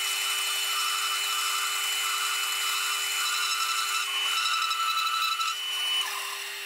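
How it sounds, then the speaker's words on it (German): A band saw rips a board lengthwise without a rip fence, giving a steady, loud, continuous buzzing whine with a constant hum and no pauses. "Wir haben jetzt noch mal bis ganz knapp vor Ende gesägt."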